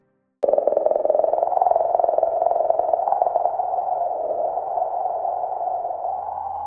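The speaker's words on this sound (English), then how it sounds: "a low background hum revealed continuous, low-frequency oscillations within the plasma environment" Sonified plasma oscillations around a comet start abruptly as a loud, continuous tonal hum with a pulsing, slightly wavering texture that holds steady throughout.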